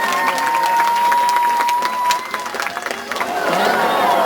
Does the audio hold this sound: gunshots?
no